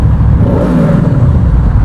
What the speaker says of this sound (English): this thing revs really quick too